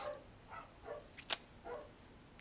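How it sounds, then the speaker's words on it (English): A dog barks a few times somewhere in a home, short yips and barks that sound faint and distant against quiet room tone. "Excuse the dog barking."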